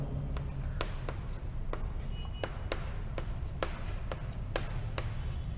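Chalk or marker writing an example on a board during a chemistry lesson, heard as a steady series of short taps and scratchy strokes over a constant low room hum, with no talking.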